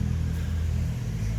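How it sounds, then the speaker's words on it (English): Steady road traffic rumbling near a backyard vegetable garden, a continuous low engine drone with a passing car swelling slightly, with no speech. "Hopefully you can hear me above the traffic noise."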